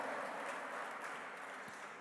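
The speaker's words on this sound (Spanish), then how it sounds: "Un aplauso de bienvenida para estas personas que hoy nos están acompañando" Steady audience applause at a church service, a continuous wash of clapping from many hands with no voices over it.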